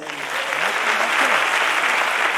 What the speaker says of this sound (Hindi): अपने लिए तालियां बजा दें